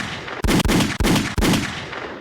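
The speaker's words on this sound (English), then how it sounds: "I'm gonna hit the gunshot, man." Gunshot sound effect played during a podcast: four loud, sharp bursts in quick succession, each cutting off abruptly, booming and close, with no talking.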